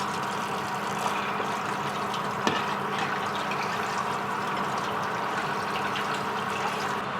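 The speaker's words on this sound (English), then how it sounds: "And now we're just going to wash it with cold water." Cold tap water running steadily over raw lamb being washed in a kitchen sink, a continuous close splashing hiss with a brief knock midway.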